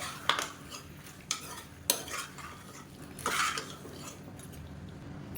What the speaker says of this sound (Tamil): இதையும் சேர்த்து வதக்கிடலாம் தக்காளியோடு சேர்ந்து இதுவும் நல்லா வதங்கிடும்